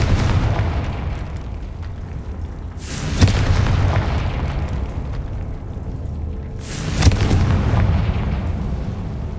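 Two heavy blasts from the Confringo spell in Hogwarts Legacy, each a loud sharp crack followed by a booming rumble, set against a constant low roar.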